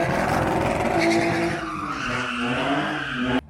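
A car engine roars continuously while tires squeal and skid through a drift inside a pool at a village tuning show, loud and close, cutting off abruptly at the end.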